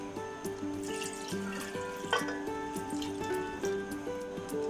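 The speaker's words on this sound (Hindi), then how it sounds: "मैंने 2 गिलास पानी डाले हैं" Two glasses of water trickle and splash into a pot of aloo gosht over fried potatoes and mutton, a steady liquid pour with faint drips, heard under soft background music.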